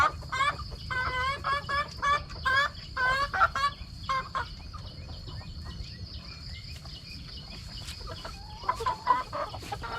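Chickens clucking and calling at a Lao feeding spot, with repeated short clucks in bursts over a steady insect-like background hum, fairly close and moderately loud, no talk.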